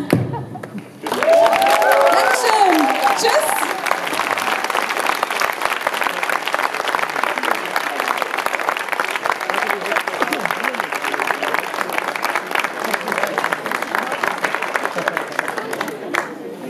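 A concert audience at Burg Eppstein gives loud, sustained applause after the band finishes the song The Chandler's Wife, starting abruptly and holding dense and steady.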